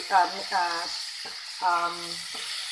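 Pork fat renders and sizzles in a pan for a bitter gourd and egg sauté, a soft steady hiss under several short bursts of a voice.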